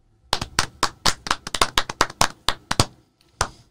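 Close, crisp hand claps, about fifteen in an uneven burst with brief pauses, then a couple more after a short gap, in an otherwise quiet room with no talking.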